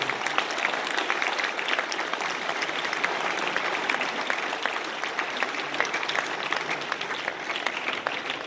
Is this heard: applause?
yes